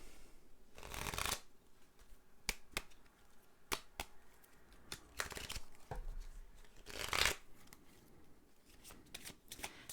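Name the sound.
shuffling oracle and tarot cards for a reading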